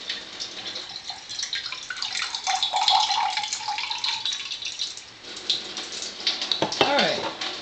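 Ionized alkaline water pours from an Enagic SD 501 water ionizer into a container, a steady hissing splash that rises and falls for several seconds, with a brief clatter near the end.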